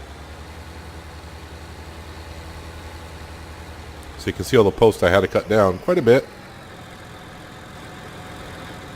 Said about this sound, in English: I want to get our tractor and trailer to the field